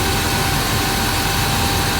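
A 1987 Dodge Power Ram 50 4x4 pickup's 2.6 Hemi engine, with a new timing chain, water pump, heavy-duty fan clutch and Toyota fan, runs at a cold start as a steady, loud, close rumbling drone.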